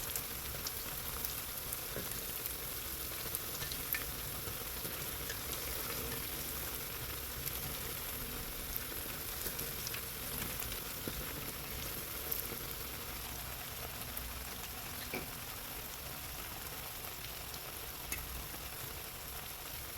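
Dough frying in hot oil for Kars lalanga, a steady soft sizzle and crackle with small pops throughout, fairly faint and without talk.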